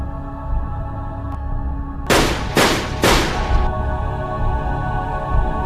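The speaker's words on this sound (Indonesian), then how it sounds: "tepat saat Naomi melepaskan 3 tembakan." Three sharp, loud bangs in quick succession over a steady low hum, each with a brief broadband burst; gunshots in the 2006 Death Note film.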